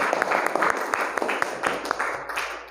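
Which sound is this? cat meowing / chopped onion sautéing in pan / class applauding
class applauding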